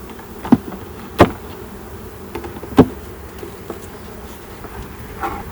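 Honey bees buzz close by at a hive in a steady drone, with several louder passes flicking near the listener every second or so.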